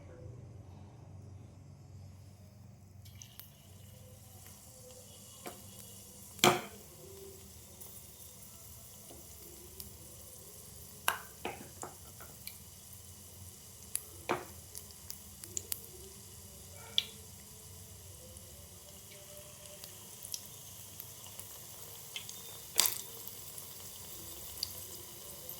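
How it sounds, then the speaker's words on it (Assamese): Bok flower fritters, in a batter with egg and a little baking soda, fry in hot oil with a steady close hiss and occasional sharp pops and crackles, no talking. "আৰু এতিয়া মই ইয়াৰে বৰ ভাজিম"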